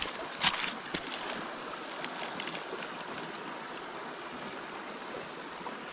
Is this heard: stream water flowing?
yes